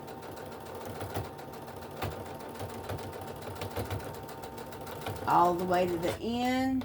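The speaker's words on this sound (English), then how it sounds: "So you always got to make sure you're back stitching." A sewing machine back stitches the pocket of a walker caddy in rapid whirring bursts, with short pauses between runs and a rising whine near the end, while someone talks over it.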